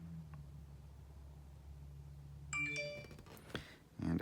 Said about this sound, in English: apologies, you just heard my phone